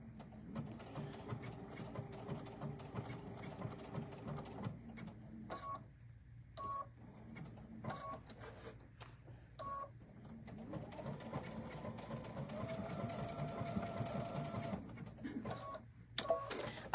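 A sewing machine stitches a blanket stitch around an appliqué stem, running in short bursts of rapid mechanical whirring separated by brief pauses, fairly quiet and close.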